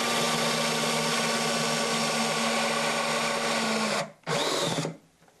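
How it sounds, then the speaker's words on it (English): A power drill with a 12mm (1/2 inch) bit or step drill, boring a hole in a guitar, whirs loudly and steadily for about four seconds, stops briefly, gives one short final burst, then falls silent. "I come into it with either a step drill or a regular 12mm or 1/2 inch bit to drill the hole"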